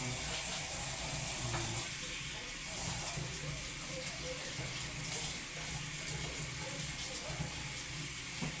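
Running tap water streams steadily and evenly while avocado leaves are washed, a constant close hiss with no pauses.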